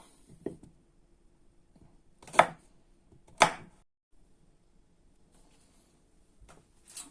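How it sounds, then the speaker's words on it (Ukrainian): A knife cuts radish on a cutting board, giving a few sharp, isolated chops spaced about a second apart, with quiet gaps between the strokes and no talk. "Так, після того, як ми нарізали огірок картоплю, ріжемо редиску"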